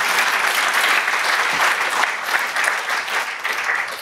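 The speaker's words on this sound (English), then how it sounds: "Pause for applause." A conference crowd at a SciPy 2019 talk applauds the speaker, a loud, sustained wash of many hands clapping throughout.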